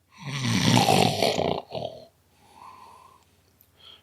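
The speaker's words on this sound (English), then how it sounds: "A loud snore was the only reply." A sleeping engine character in a narrated story gives one loud, rasping snore up close, then trails off into a quieter wheezing breath and faint sounds.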